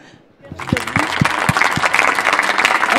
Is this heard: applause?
yes